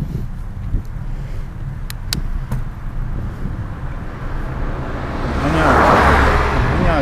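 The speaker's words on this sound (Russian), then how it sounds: "Гоняют меня машины." Cars rush past a cyclist riding along a road, wind buffeting the microphone, with a vehicle swelling louder and closer toward the end as it overtakes.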